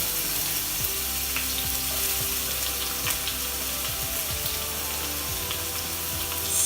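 Chopped onion added to hot oil in a pan sizzles and crackles steadily and evenly throughout, close up, with no talking.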